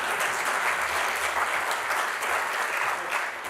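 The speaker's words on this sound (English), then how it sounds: "Everybody likes a nice round of applause." A conference audience at the NASCO reunion gives a full round of applause, a loud, steady wall of many hands clapping throughout with no talk over it.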